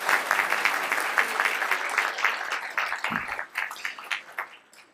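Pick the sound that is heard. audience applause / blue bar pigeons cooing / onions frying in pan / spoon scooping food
audience applause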